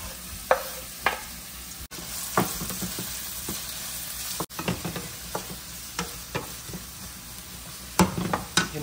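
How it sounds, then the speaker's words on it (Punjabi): Chopped onions sizzling and frying in hot ghee in a pan for Maggi noodles, a steady close sizzle with intermittent scraping stirs and clinks throughout. "ਇੱਧਰ ਆਪਣਾ ਘਿਓ ਵੀ ਰੈਡੀ ਆ, ਆਪਾਂ ਪਾ ਦਾਂਗੇ ਸਭ ਤੋਂ ਪਹਿਲਾਂ ਗੰਢੇ"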